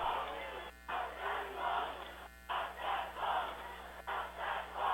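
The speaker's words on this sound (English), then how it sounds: "Fans cheering, "Stop that ball."" Football fans in a stadium at a college season opener roar in swelling waves, the crowd noise rising and falling in bursts with brief gaps of near silence between surges.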